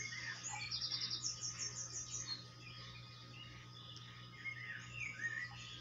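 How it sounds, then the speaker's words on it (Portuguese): Birds sing near an abandoned rural house, with high chirps and short trilled phrases repeating over a soft, steady hum of insects and ambient noise, fairly close and alone without talk. "E esses pássaros cantando realmente é de encher os ouvidos da gente"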